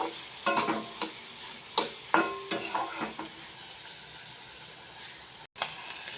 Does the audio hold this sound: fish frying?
yes